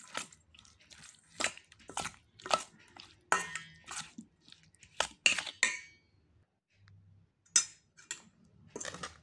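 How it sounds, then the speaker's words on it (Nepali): Potatoes and well-beaten yogurt being stirred together in a bowl for a spicy, sour chukauni, heard as a series of quick scraping clinks and taps of a spoon against the bowl, fairly close, with brief pauses between bursts. "अब यसलाई मजाले चलाउनु पर्छ।"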